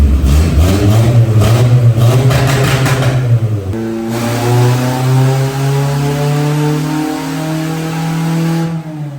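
A Suzuki Khyber fitted with a B18C engine revs hard on a dyno, loud and close, with a sharp high-rpm pull, then a brief drop and a long sustained rising wail before it cuts off near the end.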